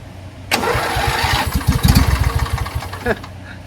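A small Briggs & Stratton Intek V-twin engine cranks and catches at once, sputtering unevenly at first before settling into a rough, loud chugging close by.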